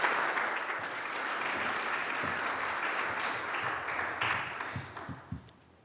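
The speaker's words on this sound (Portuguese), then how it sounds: "Melo, Presidente da Fundação Amélia de Melo, para quem eu peço um aplauso, por favor." Ceremony audience gives sustained applause, a broad wash of clapping that fades out toward the end, somewhat distant and soft.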